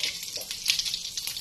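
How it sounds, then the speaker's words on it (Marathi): Mustard seeds, cumin and asafoetida sizzling and crackling in hot oil for a tempering, a short close burst of bright frying hiss with small pops. "सर्वप्रथम अर्धा चमचा मोहरी, त्यानंतर जिरे, हिंग,"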